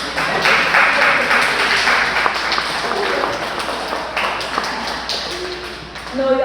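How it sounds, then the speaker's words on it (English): An audience at a church book launch gives a round of applause: dense clapping from many hands that is steady and fairly loud, with voices mixed in and a slight swell near the end. "Give yourselves a hand clap."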